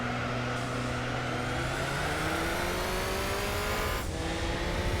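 A race car engine in the video game Gran Turismo 4 revs loudly and steadily, its pitch climbing over several seconds before a brief dip as the car shifts gear, with no talking over it.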